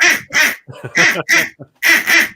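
A blown duck call imitates a duck, giving six loud, raspy quacks in pairs with short gaps between them and no talking.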